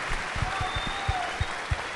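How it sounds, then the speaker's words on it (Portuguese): An audience at the Campus Party Brasil tech event gives a brief round of applause. The claps come as scattered, fairly sparse thuds over a steady hall background, moderately loud and without talking. "uma salva de palmas pra esse maluco"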